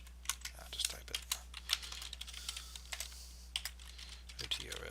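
Quick, light typing on a computer keyboard up close, a steady irregular patter of key clicks over a low electrical hum, with speech faintly present.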